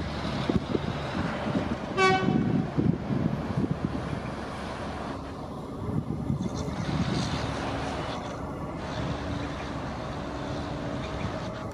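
A train horn toots once, then the low rumble of a passing train carries on steadily, mixed with wind noise.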